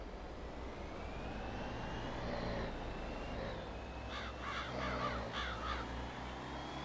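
Crows caw in Farming Simulator 22 on a Saskatchewan farm, several rhythmic calls in a quick burst near the end, over a steady engine drone and a passing aircraft-like whine.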